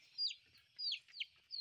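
A chicken on a farm gives a few faint, high clucking calls in quick succession, heard at a distance over a quiet background.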